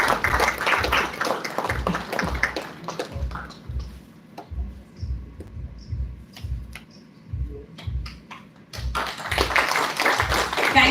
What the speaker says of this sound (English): the least we can do is clap out loud